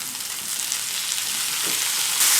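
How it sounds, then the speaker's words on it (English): Green and dry red chilies, onions and soaked chana dal sauté in a pan with an even, close sizzle and a faint scrape or two of stirring. No one speaks. "Saute for 1 minute."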